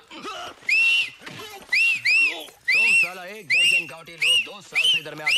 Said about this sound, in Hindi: सीटी तुम लोग ही बजा सकते हो क्या? हम लोग नहीं बजा सकते?